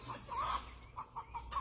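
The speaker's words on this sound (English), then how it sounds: "So I still have a few chickens out running around." Free-range backyard chickens, including young roosters and a black Australorp, cluck in short rising bursts, a few soft calls spaced close together, fairly near and clear with no talk.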